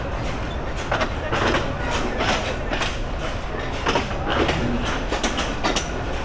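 A slow train on a rural Bangladeshi branch line rumbles steadily with irregular clanks and rattles from the carriages, loud and close, with a voice talking over it at times.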